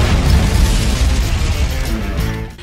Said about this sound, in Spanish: De pronto, una explosión sacude el lugar.